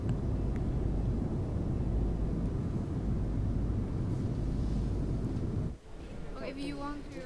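Steady, loud broadband roar inside the cabin of a passenger jet in flight to Kansai, Japan, continuous for several seconds before dipping briefly as a voice speaks nearby.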